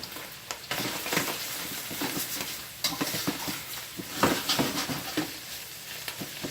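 Garlic sautéing in a pan for chicken marsala gives a steady close sizzle, broken by frequent scrapes and clinks of stirring.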